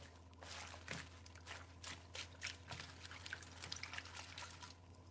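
Homegrown leaves are rinsed lightly in water, giving faint, close splashing and trickling with small irregular drips and pours, and no one speaking.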